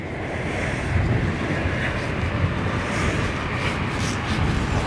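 Blustery wind buffets the microphone outdoors at Heathrow, a loud, continuous roar that rushes and swells throughout with no talk.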